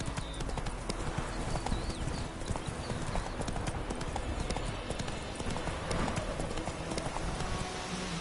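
Roach, the horse in The Witcher 3, gallops in a loud, continuous rapid clip-clop of hooves, with a faint whinny and a brief voice in the mix.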